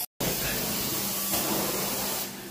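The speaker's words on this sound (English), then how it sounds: "I will put some Clorox spray and walk away by Soap Daddy on there" Clorox spray cleaner misted onto a carpet spot, a steady broadband hiss that runs continuously after a brief gap at the start and fades slightly at the end.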